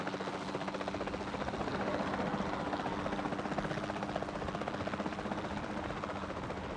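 A helicopter flies steadily in the dinosaur park game Jurassic World Evolution 2, its rotor producing a continuous fast thumping whir at an even, moderate level throughout.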